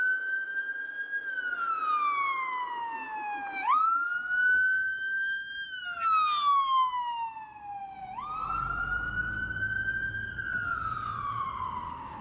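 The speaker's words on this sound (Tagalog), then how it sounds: "Lakas ng tunog ng ambulance na yun." An ambulance siren wails loudly in slow up-and-down sweeps as it passes on a city street, with faint traffic rumble underneath.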